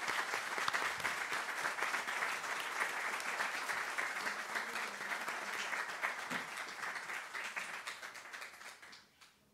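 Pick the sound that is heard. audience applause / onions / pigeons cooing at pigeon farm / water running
audience applause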